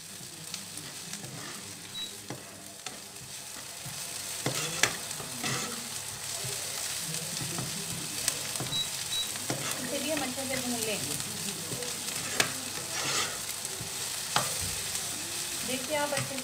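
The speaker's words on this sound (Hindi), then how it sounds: "मैंने ये थोड़ा सा गार्लिक पेस्ट डाल दिया है और इसे भी हम अच्छे से भूनेंगे।" Garlic paste sizzling and frying in a pan during home cooking of a lunch meal, a steady broadband crackle with occasional stirring scrapes, moderately loud, with a voice talking intermittently over it.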